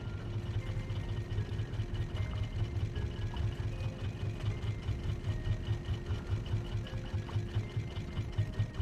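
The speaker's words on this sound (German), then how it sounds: "Dann machen wir einmal Motor an." A motor-driven raft in the survival game Raft runs steadily throughout, with a continuous low, rhythmic engine chug and a faint mechanical whine above it, heard alone without talk.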